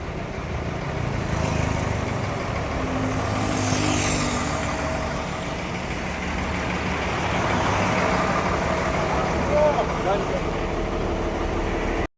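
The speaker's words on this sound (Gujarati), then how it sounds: "ટ્રાફિક બહુ વધી ગયું છે અહીંયા" Road traffic near Hazira, with a steady, close wash of truck and car engines idling and rolling past. The rumble stays continuous and fairly loud, and a voice talks over it.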